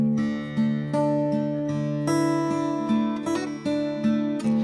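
Doubled guitar parts layered on top of a main guitar in a full song mix, sustained chords with steady strummed attacks and no voices.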